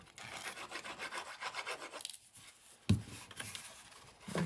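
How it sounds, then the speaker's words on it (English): A bone folder rubs firmly across folded paper on a craft bag, giving a steady dry rasping scrape in repeated strokes, close and fairly quiet, with a small knock near the middle. "I'm going to go in with my bone folder and give that a rub"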